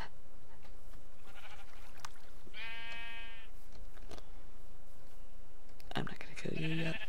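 Minecraft sheep let out a clear, wavering bleat near the middle, followed by another bleat near the end, over a low steady background hum.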